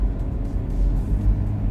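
Toyota 4Runner rolling through a series of corners, a steady low road rumble and engine drone filling the cabin at constant level, no voices.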